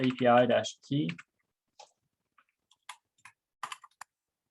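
A few sparse, light keyboard clicks typed into a computer while setting a header key in the Postman API tool. A short stretch of speech comes first, then quiet scattered keystrokes.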